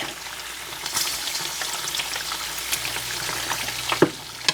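Hog fat rendering down into lard in a pot, a steady low crackling sizzle with scattered pops and occasional scrapes of stirring, close and moderately loud, no voices.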